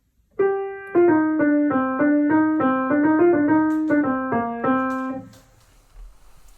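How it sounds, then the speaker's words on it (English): A short tune in a minor key played on a piano-like instrument, single notes stepping along at a moderate pace, then fading into quiet. "If I put this tune in a minor key, it would sound like this."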